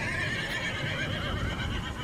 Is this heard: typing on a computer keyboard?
no